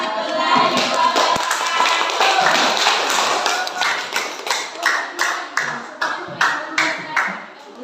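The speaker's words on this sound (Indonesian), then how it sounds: "Aplaus dulu." A classroom group claps after finishing their presentation, a dense burst of applause from many hands that thins into a slower run of separate claps toward the end, with voices faintly underneath.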